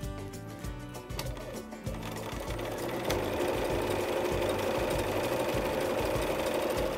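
A sewing machine stitches fabric pushed against the guide, its rapid mechanical chatter starting in short bursts and then running continuously at a steady, close, moderate level.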